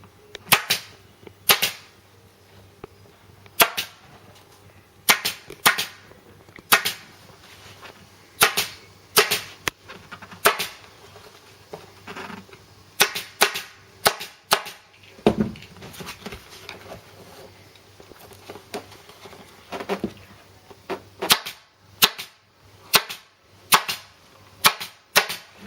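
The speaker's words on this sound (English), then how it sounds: "it's quicker for us to be able to show you how we can do it with an air stapler" Air stapler firing staples repeatedly, sharp loud snapping shots in irregular bursts of one to three, with brief quiet gaps between them.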